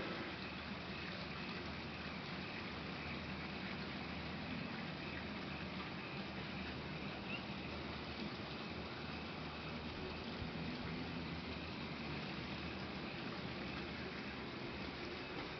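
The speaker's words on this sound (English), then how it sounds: "see if you can hear the babbling brook down in the" A babbling brook running below a Salt Lake City town home balcony, heard as a faint, steady, wash of flowing water that continues evenly with no voices.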